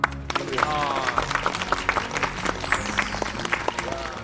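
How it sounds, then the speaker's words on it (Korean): A studio audience on a Korean talk show claps for North Korean defectors who arrived safely in Korea, a moderate wash of clapping with distinct sharp claps mixed under background voices and a sweeping tone. "무사히 한국에 오신 여러분들에게 다시 한번 박수를"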